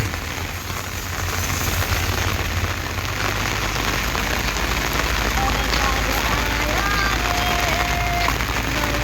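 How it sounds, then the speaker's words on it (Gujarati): Steady rain pours down in a dense, even hiss that never lets up, with voices faintly mixed into the wash of falling water. "વરસાદ આવે છે."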